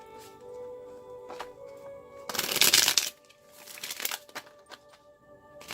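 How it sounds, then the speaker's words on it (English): A deck of tarot cards is riffled in one quick, close, crisp burst of shuffling, rising briefly out of a quiet room background. "One more shuffle, please."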